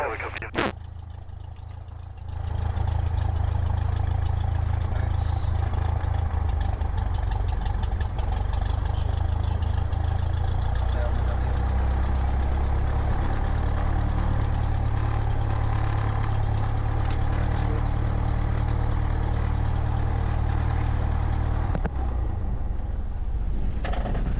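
A Cessna 172 engine idles steadily before shutdown, a loud, constant low drone that holds for about twenty seconds and then drops away, with faint cockpit voices at the start.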